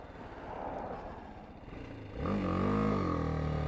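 A BMW G310GS motorcycle rides on the road; a steady engine drone and wind noise rise around two seconds in as the bike accelerates, with the engine note climbing and holding loud and close.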